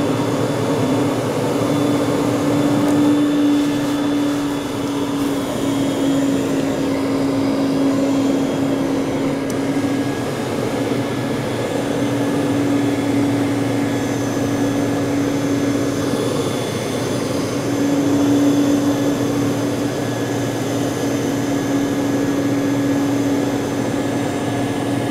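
A commercial carpet extractor runs continuously while cleaning stains from carpet, a loud, close, steady motor roar and suction hum with a faint whine and slight swells, and no voices over it.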